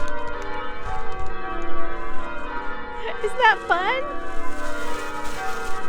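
Church bells ring out in a festive setting, a rich cluster of bell tones swelling in the middle of the stretch while someone talks over them.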